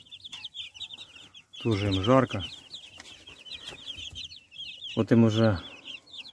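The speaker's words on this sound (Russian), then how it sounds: "вот наши цыплята в клетке." Month-old chickens crowd a cage, peeping constantly with high chirps, while a person speaks in two short bursts over them.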